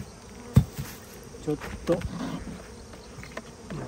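Western honeybees buzz in a densely packed nucleus hive box about to be moved into a standard ten-frame box, a steady close drone under a few clunks and a brief spoken word.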